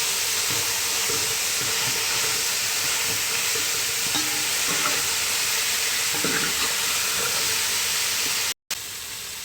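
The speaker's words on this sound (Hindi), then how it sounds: "बंद गोभी डाल के भी कुछ देर तक अच्छे से पकाएंगे" Carrot and cabbage fry in a pan for chicken egg fried rice, with a constant dense sizzle and occasional stirring scrapes, close and steady until a short break near the end.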